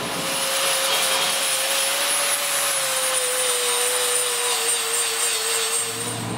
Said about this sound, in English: I'm going to build it up with some more weld so I can flat disc it